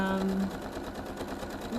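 Sewing machine running steadily during free-motion quilting of a mug rug, a fast continuous whirring stitch rhythm close by, loud and unbroken for the short span.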